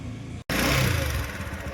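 A Bajaj Discover 100 motorcycle engine, just fitted with new tappet parts to cure a ticking noise, starts after a brief silence and settles into a steady, close, loud idle running with mild clatter.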